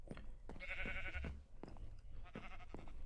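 Sheep and goats bleat in the Minecraft video game, several short wavering bleats in quick succession, faint and nearby.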